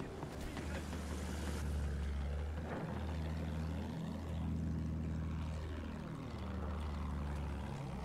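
Propeller plane engine in Battlefield 1, a steady droning hum with a wavering pitch that holds throughout, fairly quiet, with no talk over it.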